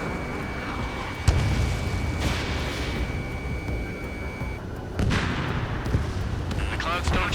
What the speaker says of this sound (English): Phase 2. Missile launch.